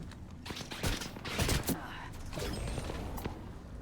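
Bursts of gunfire in Apex Legends during a collegiate tournament broadcast, a few quick volleys with mechanical clicks and movement, heard at a moderate distance among game effects.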